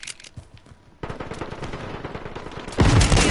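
Rapid automatic gunfire in the Call of Duty Modern Warfare video game, sparse shots at first, then a dense sustained burst that swells louder and closer near the end, with no talk.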